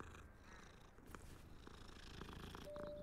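Soft, steady purring from a cat in the video game Hogwarts Legacy, close and continuous over a low background, with a brief faint tone near the end.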